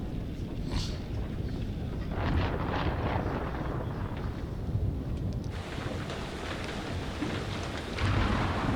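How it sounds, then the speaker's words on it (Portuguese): Thunderstorm with steady heavy rain and rumbling thunder in the Man of Medan video game, a continuous loud wash of rain with deeper rolls swelling around the middle and end, no voices. "Eu vi uma tempestade tenebrosa."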